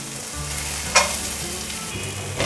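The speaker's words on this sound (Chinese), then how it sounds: "油热了，放入南瓜泥，把南瓜泥炒香，大约略炒一下，放入腰果" Pumpkin puree with cashews stir-fried in hot oil in a wok, a steady close sizzle with a few sharp scraping clatters of the spatula mixed in.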